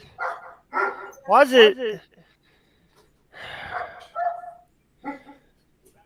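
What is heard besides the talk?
dogs barking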